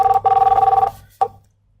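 A desk telephone rings after a call is redialed during a contact-center scripting lab, giving two long tonal ring bursts followed by a short third chirp, close and clear with no talk over it.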